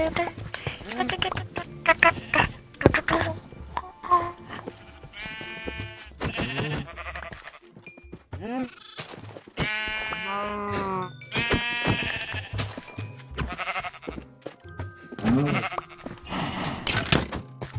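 Sheep in the survival game Minecraft bleat repeatedly in wavering, nasal calls, several close and loud, spread across the clip over game music and effects.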